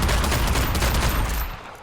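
Sustained rapid gunfire shot into the air in the video game Hitman Absolution, a loud continuous burst of shots with echoing reverb that tails off near the end.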